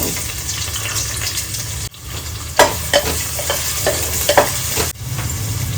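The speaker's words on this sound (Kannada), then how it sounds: "ಸಾಸಿವೆ ಜೀರಿಗೆ ಅದನ್ನೆಲ್ಲ ಹಾಕೋಣ ಅಂತ ಈಗ ಈರುಳ್ಳಿ ಹಾಕೋತಾ" Onions frying with mustard seeds and cumin in a pan, a continuous close sizzle with scattered crackles and stirring clatters, one short dip partway through and no talking.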